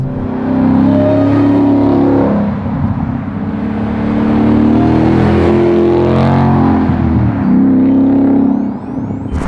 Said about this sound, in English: MagnaFlow really gives it that thump, that really heavy vocal sound that it needs